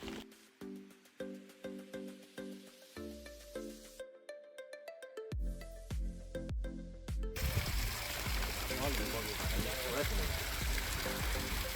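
Snowmelt water flows in a mountain stream near snowy Himalayan lakes at Paanch Pokhari, Nepal. A continuous loud rushing wash fills the second half and follows a stretch of music-like tones.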